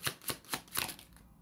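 Oracle cards being shuffled by hand, four quick riffling bursts in a steady rhythm, close and soft, with no voice over them.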